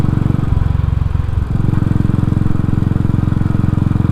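A Royal Enfield motorcycle engine fitted with a Race Dynamics Powertronic map runs close to the microphone, a loud, steady pulsing thump that dips briefly before settling into a fast, even rhythm.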